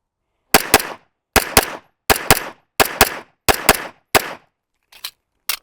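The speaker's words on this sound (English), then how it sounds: "and then I'll shoot the doubles again" Handgun firing pairs of shots, six sharp double reports at an even pace on a shooting range, followed by a faint seventh pair, each crack close and loud with a short ringing tail.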